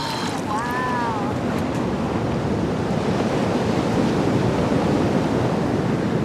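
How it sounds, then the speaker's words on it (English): Ocean surf breaking, long-travelled swell rolling ashore as a dense, steady roar of wash and spray, loud and close throughout, with a brief faint whistle-like call near the start. "these waves have traveled for thousands of miles from a storm here off Antarctica, all across the ocean"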